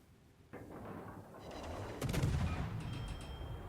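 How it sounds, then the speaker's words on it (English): Naval gunfire from a World of Warships Legends battle aimed at an Iowa battleship: a low rumbling volley that swells, then sharp bursts of cannon fire ring out with a sustained boom and distant crackle. "just keep shooting this Iowa"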